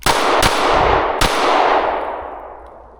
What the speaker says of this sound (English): those first 2 shots were not that great, but headshot was spot on